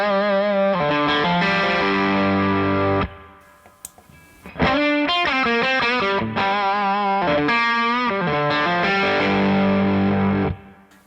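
Electric guitar played through the PLUS overdrive/boost pedal with its treble switch engaged, bright driven chords ringing out, a brief pause, then more sustained chords, with no talking.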